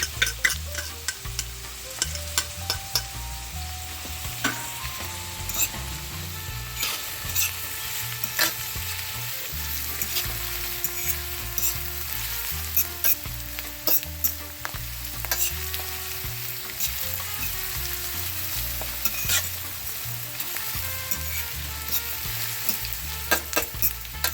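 Garlic and tomato fry in a hot pan with a steady close sizzle, broken by frequent sharp scrapes and clacks of a utensil stirring, and no voices.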